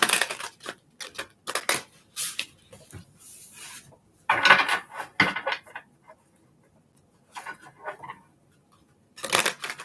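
Crisp papery riffling and slapping of tarot cards being shuffled, in several quick bursts with short pauses between, fairly close.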